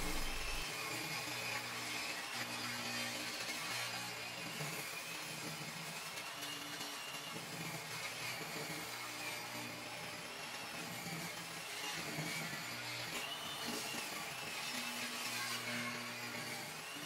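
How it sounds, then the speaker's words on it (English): Power saw ripping a 2x4 wood board lengthwise down the middle, a steady droning whine that runs unbroken for the whole stretch with a low hum beneath it. "decided to rip the 2x4 down the middle to use for the framing"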